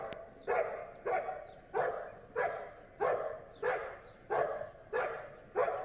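Regular, evenly spaced barking from one dog at a hiding blind during a protection trial, roughly seven or eight barks in a row, clear and moderately loud.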